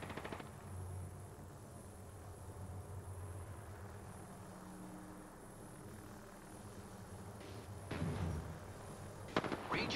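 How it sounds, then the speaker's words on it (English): Gunfire from enemies in the video game Apex Legends, with a low rumble of distant shots and a few sharp bursts near the end that land louder and closer. "The enemies are shooting at me."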